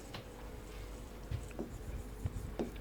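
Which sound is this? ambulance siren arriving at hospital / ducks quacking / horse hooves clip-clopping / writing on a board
writing on a board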